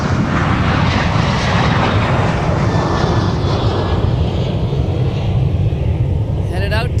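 A Sun Country airliner departs with a steady, heavy engine roar and deep rumble that stays loud throughout, fading slightly near the end as a voice speaks over it.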